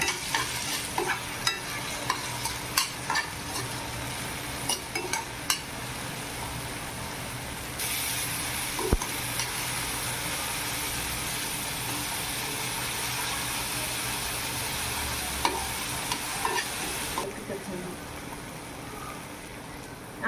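Tomatoes sizzle and fry with browned onions in a pan while being stirred, a steady crackling hiss with scraping stir strokes throughout, briefly louder in the middle, with no talking.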